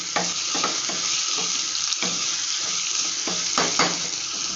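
Ridge gourd sambar vegetables with asafoetida sautéing in a pan: a steady close sizzle with several short stirring scrapes spaced through it.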